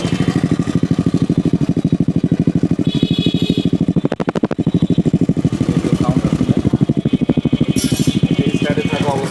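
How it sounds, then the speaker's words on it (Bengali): A modified Honda C50 motorcycle engine putters up close with a fast, even thumping beat, revving briefly once midway through. "এই তো বাইকের সাউন্ডটা শুনেন আপনারা"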